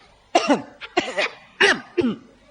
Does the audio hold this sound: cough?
yes